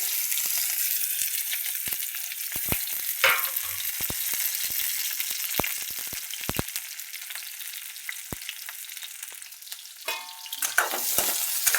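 Potato and tomato sizzle in hot oil in a steady, close, bright frying hiss, broken by scattered sharp pops and crackles and a few stirring scrapes, with no voice.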